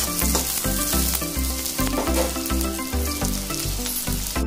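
Onions and curry leaves with mustard seeds fried and stirred in a pan for upma, a continuous close sizzle running beneath a steady rhythmic music pulse, with no voices.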